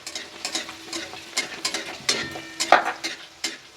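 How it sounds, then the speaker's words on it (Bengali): Puri dough sizzles and crackles in hot oil, with repeated stirring and scraping strokes of a utensil against the pan in a loose rhythm, close and moderately loud, with no talking. "এবার আমি তেলের মধ্যে দিয়ে দেবো"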